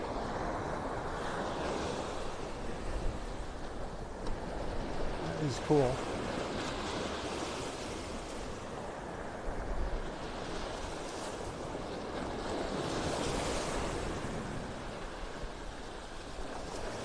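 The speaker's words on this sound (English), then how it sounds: "So neat watching the waves break." Ocean waves break and wash up a beach in North Naples, Florida: a broad, rolling surf hiss with gusts of wind noise, running continuously beneath a voice speaking briefly.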